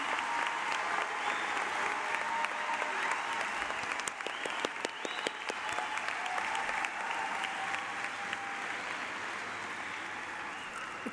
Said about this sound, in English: Please join me in a round of applause for all of our graduates today.